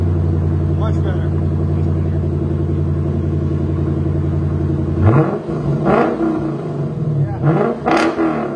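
A 5.0-litre V8 car engine holds a deep, loud steady rumble, then revs up in several sharp surges, close by, with people talking over it.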